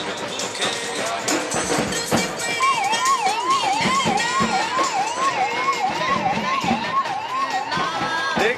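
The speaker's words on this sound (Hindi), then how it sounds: "एक इमरजेंसी एम्बुलेंस चली।" Ambulance siren wailing in a steady repeating up-and-down cycle at a Mumbai marathon, fairly close, over crowd noise and chatter.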